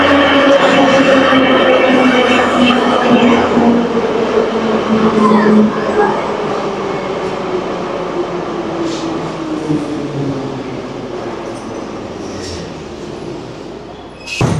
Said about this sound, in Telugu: చాలా ఫాస్ట్గా వెళ్తున్నాయి మెట్రో